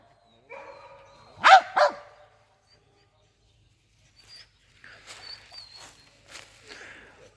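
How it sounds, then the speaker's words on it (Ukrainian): Two sharp barks from Laika hunting dogs ring out close by at a badger-trial event, followed after a pause by a string of softer yips and squeaky calls. "собаки, собаки є, собак багато."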